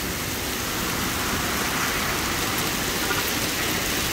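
Heavy rain and hail pour down in a dense, steady roar of broadband hiss, loud and continuous on a flooding roadside, with no voices.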